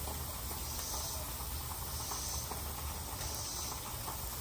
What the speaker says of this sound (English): Get your bologna fried just a little bit.